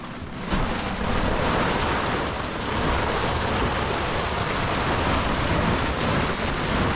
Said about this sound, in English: Guess what? It's raining.